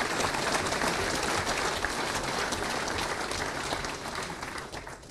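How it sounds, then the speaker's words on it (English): An opening-ceremony audience gives a round of applause, thick continuous clapping from a large crowd that holds steady and then begins to thin toward the end. "Let's have a round of applause for that, I think."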